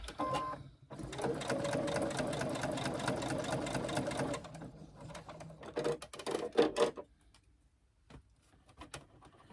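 A threaded sewing machine stitches a fabric sling in one steady whirring run of about four seconds, then a few shorter bursts of stitching, each starting and stopping abruptly, with no talk.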